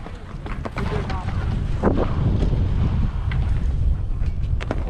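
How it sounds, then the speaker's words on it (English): Gusty wind at an outdoor skatepark buffets the microphone in a continuous low roar, swelling and easing, with faint voices in the background. "but I gotta say it's windy"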